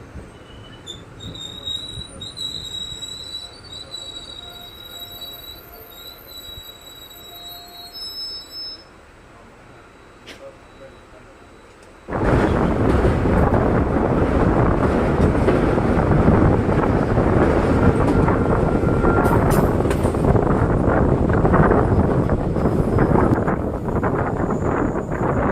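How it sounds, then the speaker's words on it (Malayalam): Arsikere–Mysore Junction passenger train number 5626, hauled by a WDP4 diesel locomotive, arriving at a station. A quiet stretch with faint tones gives way at about twelve seconds to a sudden, loud, sustained rumble and rattle of the passing train. "WDP4 ടിൻസ് ലോക്കോയുമായി വന്നുകൊണ്ടിരിക്കുന്നത് train number 5626 അരസിക്കര Mysore junction passenger ട്രെയിനാണ്"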